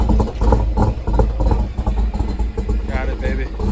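A Ford Mustang Foxbody with a 5.0 302 V8 idles with a lopey, uneven exhaust rumble, heard close and loud while people talk over it.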